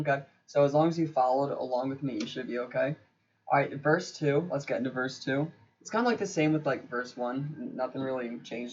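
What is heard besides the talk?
No everyday noise stands out behind the speech.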